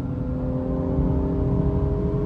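Steady, fairly loud engine hum with a low rumble and tonal whine, heard from inside a BMW M340i at night while an Audi R8 drives nearby; no clear pass-by swell.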